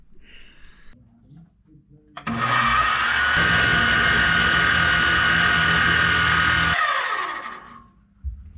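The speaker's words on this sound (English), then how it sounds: "take this to the mill, see if I can slot this further" A milling machine cuts a slot in the skid plate of a 1960 Panhead motorcycle, a loud steady whine running about four and a half seconds before winding down, with brief talk before and after.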